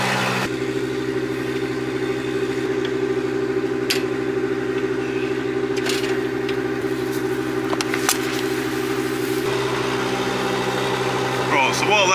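A New Holland T7 210 tractor idles with a steady low diesel rumble as a slurry tanker fills, a continuous near drone with a few brief knocks and clatters on top.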